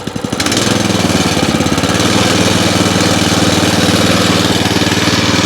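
A Weima WM900M-3 walk-behind tractor fitted with a rotary mower starts up and runs loud and close, a steady throbbing engine drone with rapid even pulses that holds constant after the first half second.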